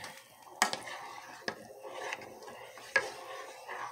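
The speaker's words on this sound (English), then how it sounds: "I'm about to stir it." A spoon stirs four-cheese risotto in a pot, with soft rubbing scrapes and three sharper knocks against the pot's side, quiet and close.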